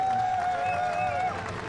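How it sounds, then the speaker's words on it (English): A crowd at the compound archery final of the 2017 Hyundai Archery World Cup in Berlin applauds steadily. The broad wash of clapping has a faint tonal whistle running through it. "Lots of applause from the crowd."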